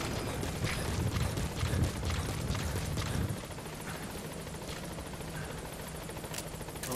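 Helicopter arriving in Metal Gear Solid V: The Phantom Pain, a loud continuous rotor roar with low thumping that drops to a steadier, quieter hum partway through, with no talk.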